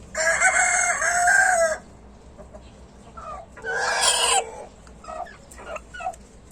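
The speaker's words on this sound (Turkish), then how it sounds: "Bunlar da küçük ırklar olan altın zibrit anaçlarım." Golden Sebright bantam chickens, a small breed, crow loudly and close by in two long calls, with softer clucks scattered between them.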